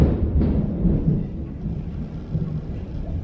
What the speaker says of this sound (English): Before I was rudely interrupted by that lightning bolt